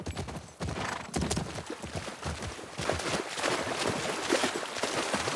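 Horse hooves clip-clop steadily on hard ground in The Last of Us Part II, a continuous rhythmic stream of close, fairly loud hoofbeats with no talk over them.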